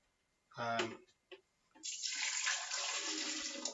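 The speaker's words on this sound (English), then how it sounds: "So there's my carrot juice. I'm going to pour it back in the blender now." Carrot juice poured back into a blender, a steady liquid splash and gush that starts after a short spoken phrase and runs continuously to the end, fairly close.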